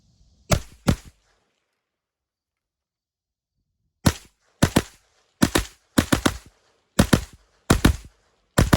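Sharp, loud gunshots from a Zenith ZF-5 9mm direct-blowback rifle: a quick pair, a long pause, then a steady string of single and double shots with punchy pops and brief tails.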